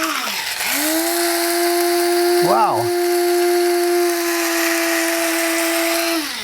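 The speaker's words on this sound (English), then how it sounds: "We're going to grind these two elements up, and we're going to use coffee grinder." A coffee grinder spins up and grinds eggshells for homemade organic fertilizer, giving a loud, steady motor whine that holds for several seconds; a voice briefly exclaims partway through.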